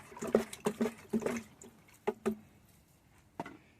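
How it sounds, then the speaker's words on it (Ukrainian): Diluted organic liquid fertilizer poured from a ladle at the roots of radish plants, heard as a few close, short splashing drips and soft liquid bursts in quick clusters, then a final isolated drop. "і вносимо під корінь. Таким чином поливаємо під корінь наші рослини."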